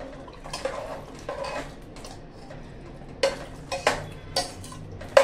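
A spoon scrapes and clinks in a pan while stirring a spiced potato and eggplant curry, achari-style aloo baingan, with scattered soft scrapes and a few sharper metallic taps near the end, close and otherwise quiet.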